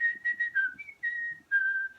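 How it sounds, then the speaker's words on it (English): A person whistles a short melodic phrase of several sustained notes, close and clear with no talking. "just like when you whistle here."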